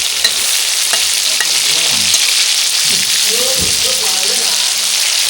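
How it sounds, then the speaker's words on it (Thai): Fish frying in a small amount of oil in a home kitchen, a steady loud sizzle and crackle running throughout with occasional clatter and faint background voices. "ทอดปลาพี่น้องทอดปลา เอาแบบโทษแบบประหยัดน้ำมันพี่น้อง"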